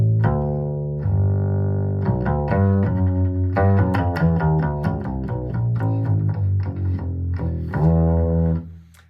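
An upright bass played through an Underwood pickup, a run of plucked notes with a punchy, clear low end and bright string attack, loud and alone, ending with a final ringing note.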